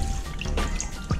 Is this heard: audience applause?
no